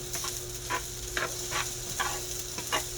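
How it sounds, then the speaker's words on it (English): Onions sizzle in a frying pan under a steady hiss, with a series of rhythmic stirring scrapes about every half second, close and without talk. "Onions in there. Fry those up a little bit."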